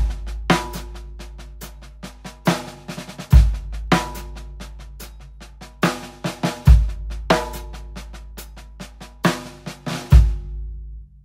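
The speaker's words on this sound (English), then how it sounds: "You can explore playing with some buzz notes or some accents after 4" A close, punchy snare groove over a steady deep bass backing track. Soft buzz notes and sharp accents cluster after beat 4 in each repeating bar, and no one speaks.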